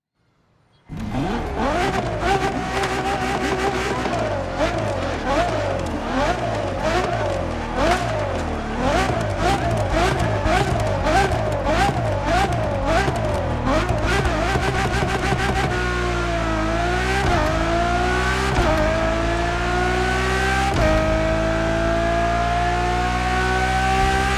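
A Ferrari Enzo from The Crew Motorfest screams through repeated upshifts, its V12 wail climbing and dropping in rapid cycles before settling into a long rising pull, loud and close with no voices.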